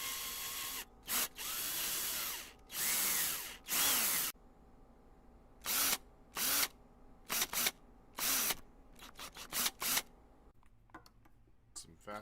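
Short bursts of a power drill recorded as sound samples start and stop repeatedly, loud whirring runs of a second or so separated by gaps, with a voice heard between some bursts.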